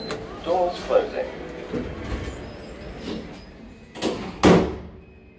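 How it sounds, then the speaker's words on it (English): Lift doors at London Bridge station slide shut amid echoing station noise, ending in a couple of clear knocks, with a recorded voice announcement heard over the ambience. "Doors closing."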